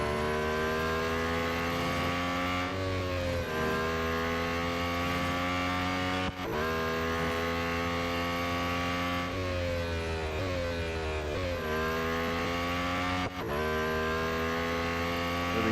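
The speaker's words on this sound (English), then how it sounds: "At least in the game, it very much sounds like a Formula 1 car." A Lotus Formula 1 car in the Real Racing 3 mobile game screams at high revs, with sharp gear shifts and brief lifts dropping the pitch before it climbs again, loud and continuous with no talk.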